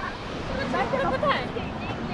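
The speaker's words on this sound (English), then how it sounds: "That waterfall is amazing." Water at Kuntala Waterfall rushes in a steady, broad roar heard from a distance for a couple of seconds, with voices chatting faintly over it.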